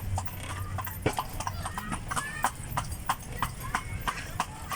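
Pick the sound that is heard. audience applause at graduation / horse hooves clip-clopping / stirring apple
horse hooves clip-clopping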